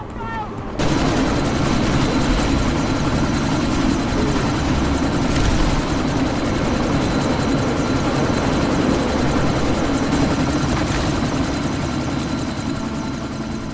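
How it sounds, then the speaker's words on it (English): A helicopter in the video game Deus Ex: Mankind Divided churns loudly and continuously through a Dubai sandstorm, its rotor roar steady and close with faint crackles of gunfire beneath. "you need to disable that chopper"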